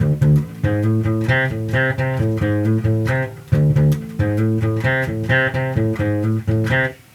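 Bass guitar plays a bluesy repeating line that walks up through approach notes into the fifth and the root. Plucked notes follow one another in an even groove, and the figure repeats twice, loud and close, with no talking.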